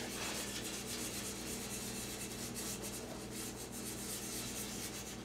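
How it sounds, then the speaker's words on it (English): Sandpaper of 150 grit rubs in circles over a golf club shaft during a shaft install, giving a steady, continuous dry rasping that stays close and even throughout with no talk. "we're going to take 150 grit, 150 grit sandpaper, and they say to just do circles on it so it gets a good grip"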